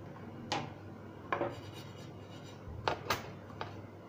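A spoon scrapes through fried sesame seeds in a pan, lifting them out for quick laddus: a few sharp, gritty scrapes and clinks spaced irregularly over a low, steady background hiss, with no talking.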